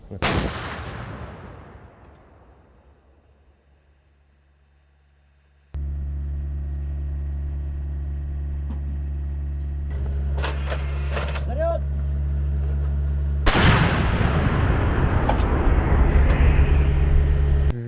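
A heavy artillery gun fires in a forest area with a sharp boom that rolls away, followed by a steady low engine hum, then another loud blast near the end.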